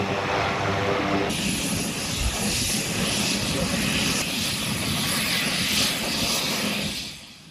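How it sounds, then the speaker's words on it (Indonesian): Military aircraft, a USAF C-130 Hercules and a B-1 Lancer bomber, fly from a British military air base, making a loud, sustained engine roar that holds steady and fades near the end. "Tak hanya pesawat USAF C-130 Hercules Amerika Serikat, tapi juga pesawat pembom B-1 Lancer terlihat terbang dari pangkalan udara militer Inggris."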